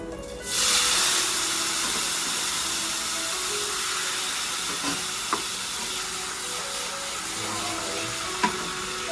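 Garlic frying in a pan for a light pasta dish with stock added, giving a steady loud sizzle and hiss that starts abruptly and runs throughout, with a few faint clinks of stirring.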